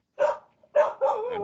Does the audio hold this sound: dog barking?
yes